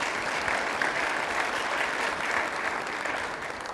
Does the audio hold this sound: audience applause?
yes